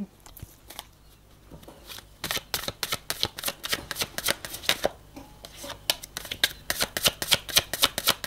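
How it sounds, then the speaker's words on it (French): Tarot cards are shuffled and spread out on a surface, making quick riffling flutters and crisp slaps. The sound starts quietly, then turns into a brisk run of close, rhythmic card snaps. "on va aller étaler quelques cartes pour identifier leur situation actuelle"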